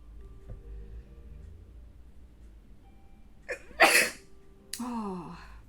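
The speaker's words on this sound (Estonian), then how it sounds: "Nii, tahan aevastada." A person sneezes close by: a quick sharp intake of breath builds into a loud burst, followed by a brief voiced exhale, against a quiet room.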